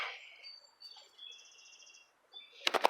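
Yellow rooster quail giving faint high chirps and thin tweets near the middle, then a short louder burst of scratchy rustling at the end.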